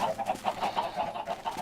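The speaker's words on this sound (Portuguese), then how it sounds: "Tanto de galinha." Several Minecraft chickens cluck in quick repeated bursts, a busy overlapping chatter of short clucks at moderate volume.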